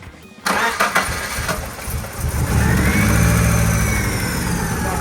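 A BMW engine cranks briefly and catches, then settles into a loud, steady idle close by, with no talking over it.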